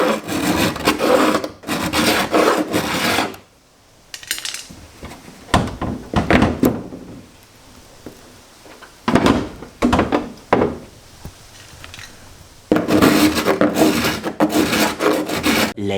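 Sandpaper rasps against a fiberglass edge in close, loud scrubbing strokes, with long dense bursts at the start and end and shorter intermittent passes between them.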